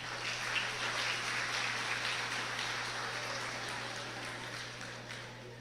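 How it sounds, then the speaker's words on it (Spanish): A church congregation gives a sustained round of applause during a sermon, a soft, distant patter of clapping that slowly fades, with a steady electrical hum underneath. "Ok, un fuerte aplauso."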